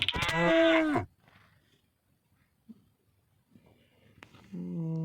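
A single loud, drawn-out cow moo, then near silence with faint rustles, and a second low moo starting at the end.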